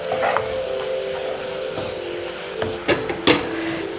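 Onion masala with a teaspoon of coriander-cumin powder simmers and sizzles steadily in a pan, a constant close frying hiss with a few brief stirring knocks near the end.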